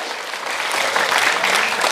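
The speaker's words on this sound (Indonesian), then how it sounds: "Tepuk tangan jo sudah untuk wanita Batak." A congregation claps in honor of Batak women during a church sermon, a loud, continuous roar of applause that swells slightly and stays steady to the end.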